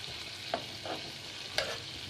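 A beef undercut steak sizzles in an open pan with a steady, moderate hiss, broken by a few brief clicks and shuffles as it is moved.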